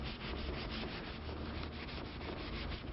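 A cloth wet with solvent is rubbed over steel to strip off greasy film before TIG welding, giving a close, continuous scrubbing rasp with a steady back-and-forth rhythm and no talk.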